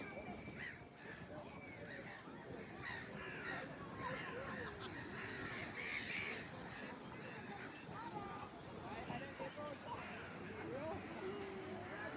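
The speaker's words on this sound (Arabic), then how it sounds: "شايفين الطيور والبط" A flock of birds including ducks and geese honks and calls continuously outdoors, a busy overlapping chorus of squawks and quacks at moderate distance, with occasional voices of people mixed in.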